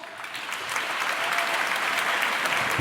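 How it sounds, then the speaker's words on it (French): A studio audience at a French debate show on reality television breaks into strong applause, rising quickly and holding loud and continuous with no talk. "En applaudissements."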